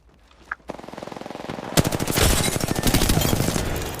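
Rapid automatic gunfire in the video game Apex Legends opens up after a brief quiet, a sustained loud burst of evenly spaced shots continuing to the end.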